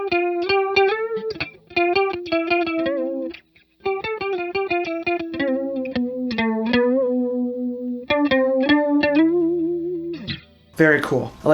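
Clean electric guitar through a Boss CH-1 Super Chorus pedal, shimmering, playing plucked notes and sustained chords up close, with short pauses between phrases.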